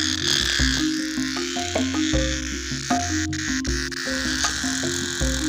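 A frog croaks loudly and close in a rhythmic series of low, pulsing calls, with a few higher chirps layered over a steady insect drone from the forest habitat.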